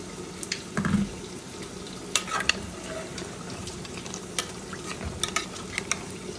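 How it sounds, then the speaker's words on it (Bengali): Country chicken curry with pumpkin and a splash of added water is gently stirred in a pan, with a soft bubbling simmer under sparse, light scraping and tapping strokes of the spoon. "আমি আলতো হাতে একটু নাড়াচাড়া করে নিচ্ছি।"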